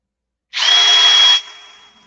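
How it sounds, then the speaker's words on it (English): A power drill bores deeper into a notch in a small airplane part, giving a short, steady high whine of about one second, close and loud, then spinning down. "Need to drill it deeper."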